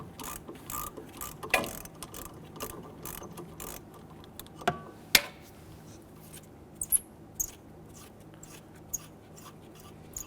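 A hand ratchet clicks in short, sparse bursts while loosening a nut on the brake hose of a 2008-2013 Infiniti G37, quiet and close with scattered sharp ticks and soft mechanical rattles.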